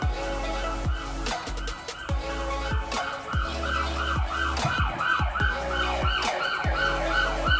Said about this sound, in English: Do you guys hear those sirens?